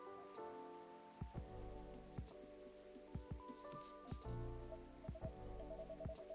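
Steady rain in the video game Coffee Talk, with faint, continuous patter on surfaces and soft drops under gentle tonal music, without any talk.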